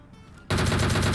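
Gunfire in the battle game PUBG Mobile, cutting in abruptly after a quiet moment as a loud, sustained burst of rapid automatic shots that continues to the end.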